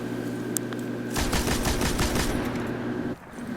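Heavy ammo weapon firing in Destiny, a rapid burst of loud, close automatic shots for about two seconds before cutting off abruptly.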